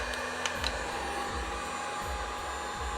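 A Wagner Furno 700 heat gun set to 800 degrees blows continuously with a steady fan roar and a faint rhythmic pulsing, running alone without speech.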